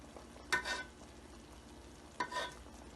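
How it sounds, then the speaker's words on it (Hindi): Tamarind chutney bubbles on high heat in a pot, a faint low simmer punctuated by two brief scraping stirs of a spoon, close and quiet, with no voices. "तकरीबन 20 मिनट से पक रही है तेज़ आंच पे"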